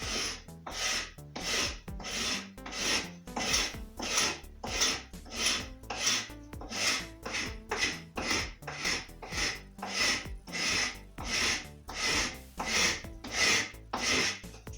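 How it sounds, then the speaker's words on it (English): A paint scraper scraping a grey weathered surface off hardwood, steady rhythmic rasping strokes about one per second, close and clear with nothing else heard. "I don't sand it, it just takes a lot of time, so I use this kind of, paint scraper."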